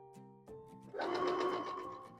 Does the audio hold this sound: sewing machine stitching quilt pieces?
yes